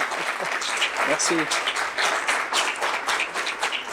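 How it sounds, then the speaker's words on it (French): Steady applause from a theatre audience for an actor, dense and sustained clapping across the whole span, with a brief spoken word over it. "je veux un tonnerre d'applaudissements pour cet acteur incroyable"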